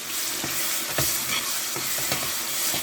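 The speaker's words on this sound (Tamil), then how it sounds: "இப்போ நல்லா கிண்டி விட்டுக்கலாம்." Ginger, garlic and tomato frying in a pan for a South Indian boti curry, with steady loud sizzling broken by several sharp scrapes and knocks of a spoon stirring.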